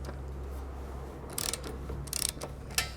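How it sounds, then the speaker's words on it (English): A ratchet wrench loosens lag bolts holding a garage door track, giving a few short bursts of quick clicking near the mic over a steady low hum, with no talk. "all you have to do that is to loosen up these lag bolts up here"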